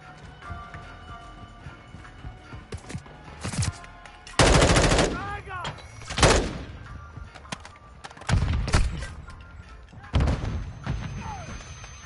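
Shooter video game gunfire: several loud bursts of rapid shots and single cracks spaced irregularly across the clip, with quieter game effects and footsteps in between.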